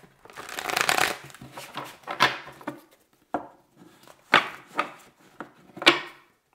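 Tarot cards are shuffled by hand in a series of riffling, rustling bursts, close and moderately loud, with short quiet gaps between the shuffles.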